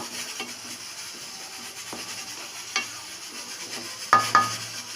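Drumstick leaf sambar simmers in a pot on the stove, a steady low bubbling with soft pops and a couple of sharper clinks near the end; nobody speaks.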